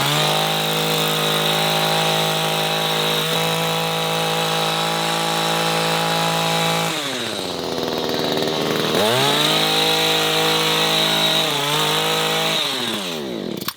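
An Echo HC-2020 professional hedge trimmer with sharp blades runs loud and close while cutting a hedge, a steady high engine whine with brief throttle dips and revs partway through, no voices.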